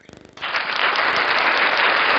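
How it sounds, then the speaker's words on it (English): On a podcast, a burst of applause, most likely a sound effect, cuts in abruptly after a few quiet taps and holds as a bright, uniform wash of clapping to the end. "I'm gonna give a round of applause to Miss Yolanda."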